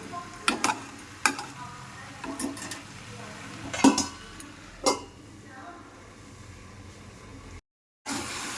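Mutton and potatoes being sautéed slowly in a pan, with a soft sizzle under intermittent clinks and scrapes of a spoon against the pan. The sound goes briefly silent near the end.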